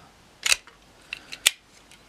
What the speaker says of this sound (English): So I'm going to strip quite a bit of this off